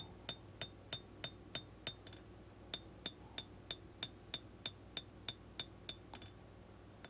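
Hammer forging the blade bevels of a stick-tang knife made from an old leaf spring on an anvil, a steady run of about seventeen bright ringing metallic strikes in even rhythm with a brief pause partway, fairly close and without voices.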